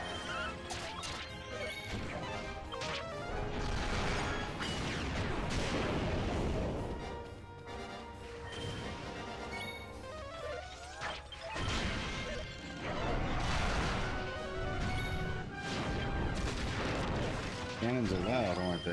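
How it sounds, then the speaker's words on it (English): Video game cannon fire in Dragon Quest X: a continuous barrage of heavy booms and crashing impacts layered over game music, loud and dense throughout with only brief dips. "Cannons are loud, aren't they?"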